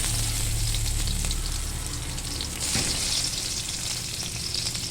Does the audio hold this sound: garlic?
yes